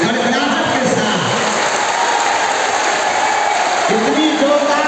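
Loud, sustained applause from a large crowd at a Hindu religious discourse, dense clapping filling the space steadily without a break.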